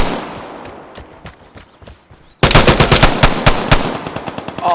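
Automatic gunfire with recoil in the video game Vigor: a quiet stretch of sporadic shots, then a loud, rapid burst of repeated cracks fired in quick rhythmic succession.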